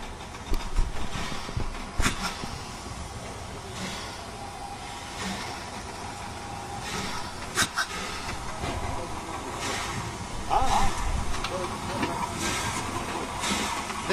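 A small 262 tank steam locomotive in Serbia hisses steadily, a broad continuous rush of steam with a few sharper bursts, heard close and alone.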